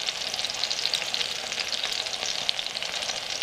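Chicken breast coated in batter with smoked paprika fries in a pan, giving a steady, dense sizzle and crackle that holds at an even level throughout.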